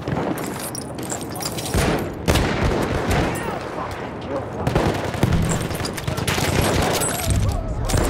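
Automatic machine gun fire rattles through Battlefield 1 combat on the Ballroom Blitz map, with dense, sustained bursts and overlapping shots carrying throughout, and occasional voices calling out amid the battle.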